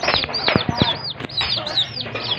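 Turkey chicks at a farm give repeated high, thin peeps and chirps, close and fairly loud, crowding over one another in quick bursts.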